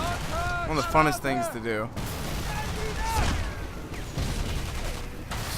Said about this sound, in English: You also can use these rocket launchers to do this.